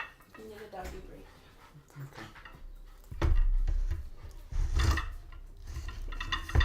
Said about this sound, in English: I'm taking a break to hang out with my dogs.